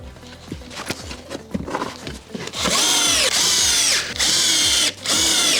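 Power drill driving screws into a kitchen wall cabinet box, with a few short ticking clicks and then several loud sustained whirring bursts close by.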